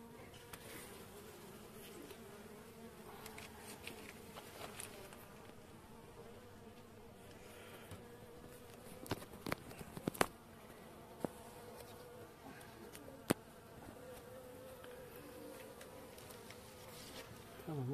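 Honey bees from a tiny colony that has abandoned its hive buzz steadily around a small hive, a dense continuous drone close to the microphone with a few sharp knocks near the end.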